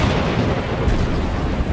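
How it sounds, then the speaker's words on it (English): Cannon fire from Union gunboats merges with a violent night thunderstorm over the Shiloh battlefield, a loud, continuous deep rumble of booms with no distinct breaks. "Thunder and lightning combine with cannon fire from Union gunboats to create a night no soldier at Shiloh will ever forget"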